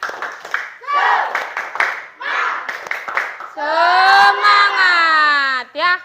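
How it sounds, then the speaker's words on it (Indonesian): Students in a classroom do a rhythmic spirit clap: a quick series of sharp hand claps mixed with group voices, building into a loud sustained shout or chant from the class near the end. "Ayo, tepuk semangat."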